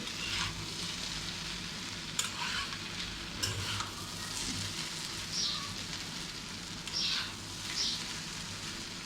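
Potatoes frying in a pan for Bengali aloo bhaji, a steady close sizzle with crackling bursts and a few sharp utensil scrapes and clinks, fairly quiet overall.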